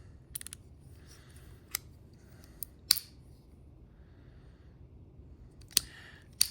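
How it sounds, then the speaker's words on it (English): Loud, crisp clicks from the drag clicker of a CEMREO Startlure AIR-118 baitcasting reel, a quick burst of three followed by scattered single clicks, close and alone over a quiet background. "That's a really loud drag clicker."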